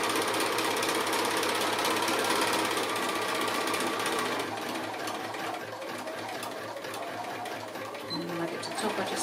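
Sewing machine zigzag stitching along a trimmed fabric edge for a small pencil case, a fast steady mechanical whir with rhythmic needle clatter, close and continuous before easing off near the end.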